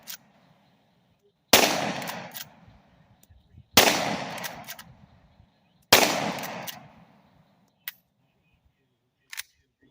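Three sharp, loud shots from a suppressed Rossi R92 rifle firing .38 Special rounds, spaced about two seconds apart, each with a short decaying tail, then two faint clicks; no talking.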